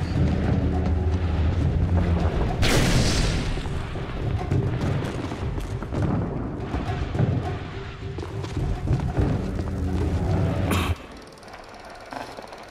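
Heavy combat in The Bureau: XCOM Declassified, with gunfire, repeated booming explosions and thuds pounding loud and close for around eleven seconds before dropping suddenly to quieter ambience.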